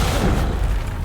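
Bombarda and Confringo spell explosions in Hogwarts Legacy on Xbox Series X|S, a loud booming blast with a deep rumbling tail that fades over about a second.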